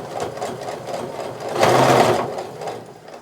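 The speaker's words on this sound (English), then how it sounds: "Now I am going to reinforce this seam by sewing backwards and forwards at the beginning and end of the stitch" A sewing machine running a seam on a sweater pillow cover, a continuous close buzzing whirr with rhythmic stitch pulses that swells briefly louder midway.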